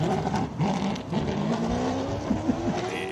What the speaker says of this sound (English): in with a Hendrix NASCAR engine